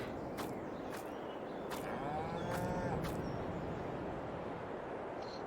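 Beef cattle at a shed in the farming game Farming Simulator 22 give a low, drawn-out moo partway through, moderately faint against a steady hiss of ambient background with a few soft taps.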